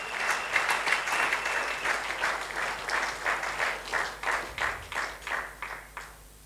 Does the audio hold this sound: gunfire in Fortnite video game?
no